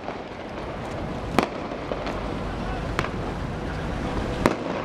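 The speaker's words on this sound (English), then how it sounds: "Firecrackers are still firing." Firecrackers pop at a ship hull launch in a shipyard, several sharp distant cracks spaced across a loud, steady wash of wind and outdoor noise.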